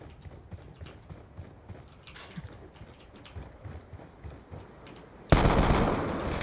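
Automatic weapon fire in Call of Duty: Black Ops 2 bursts in loud and sustained near the end, after a stretch of quieter, rhythmic in-game clatter.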